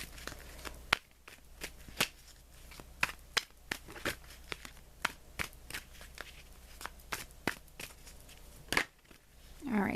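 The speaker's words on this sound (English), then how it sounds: "Let me draw you an additional guidance card" A tarot card drawn from the deck during a weekly reading: a long run of crisp, sharp card snaps and riffles in an irregular rhythm, close and fairly quiet over a low steady background hum.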